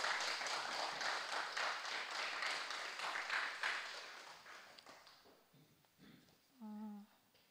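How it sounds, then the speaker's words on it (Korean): A church congregation at a Thursday worship gathering claps in quiet, distant applause that gradually fades out, followed by a brief voice at the end. "우리 한 번 더 현정이를 위해서 박수 좀 보내주세요"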